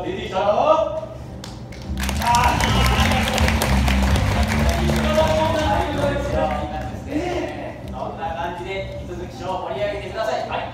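A crowd of spectators bursts into applause at a ninja show, a loud burst of clapping that swells, then thins out under an announcer's voice and background music.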